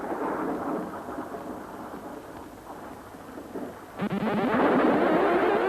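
Thunder rolls and rumbles in a low, dense wash during a storm, with steady rain hissing underneath. About four seconds in, a loud, close crash breaks out and then carries on as a heavy, sustained roar.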